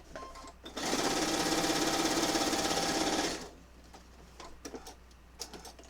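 A sewing machine stitches quilt fabric over pins in one loud, continuous whirring run of about three seconds, then stops, leaving faint handling clicks.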